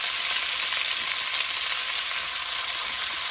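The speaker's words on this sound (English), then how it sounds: "Now you just want to turn this down a little bit and let that saute for 3 minutes" Onions for a fish stew sauté in a pan with a loud, continuous, even sizzle that holds steady throughout, close up and with no voices.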